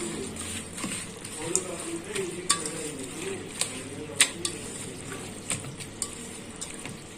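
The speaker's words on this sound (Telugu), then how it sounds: "ఇప్పుడు ఒకసారి ఈ మసాలాస్ అన్ని మిక్స్ చేసుకోవాలన్నమాట, బాగా కలిసేలాగా" Whole spices and masala get stirred with ghee in a pot for double masala chicken dum biryani, with soft scraping and occasional light clinks of a spoon against the pot beneath steady talking.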